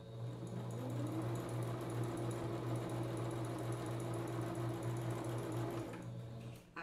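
Sewing machine stitching tricoline cotton fabric for a Christmas rug gives a steady, continuous mechanical whir with an even hum that runs for several seconds. It is quiet and close, then stops briefly near the end, with no talking.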